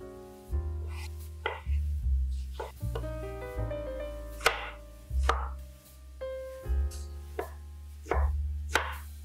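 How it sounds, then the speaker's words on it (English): A knife chops tomatoes steadily on a cutting board, a series of distinct thuds at an even pace, close and clear with no talking. "Start by chopping 1 kilo of tomatoes."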